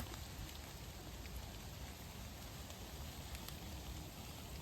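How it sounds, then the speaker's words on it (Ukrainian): Steady rain falling through a forest, a dense, even hiss of drops pattering on leaves and ground with a few sharper close drips, quiet and continuous with no voices. "Це ж тільки дощ"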